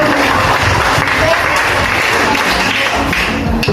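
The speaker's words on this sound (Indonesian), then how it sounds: "Tepuk tangan." A class of students applauds after an answer in a classroom, loud, dense clapping filling the room without a break, with a few sharper individual taps near the end.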